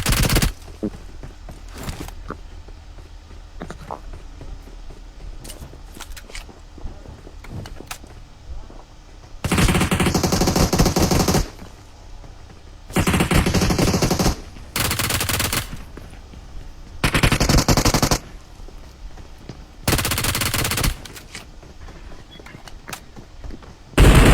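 Bursts of rapid gunfire erupt in several loud volleys between quieter stretches with scattered single shots and background game sounds.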